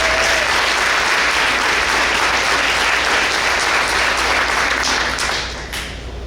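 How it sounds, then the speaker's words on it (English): A breakfast-event audience gives a sustained round of applause, dense and loud, filling the room steadily before tapering off near the end. "Please give a warm round of applause to Logan Weekly."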